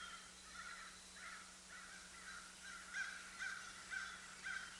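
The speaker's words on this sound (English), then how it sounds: "while crows are cawing and rain is dripping" Several crows caw in a rainy outdoor setting, harsh calls recurring in rough bursts at moderate distance over a steady hiss of dripping rain and a low hum.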